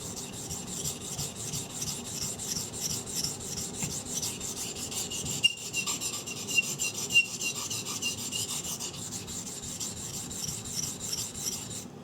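A 3V steel Fox River knife blade is drawn across a water stone in a steady, continuous rasping rub, with repeated strokes that run unbroken at an even, moderate level and no voices.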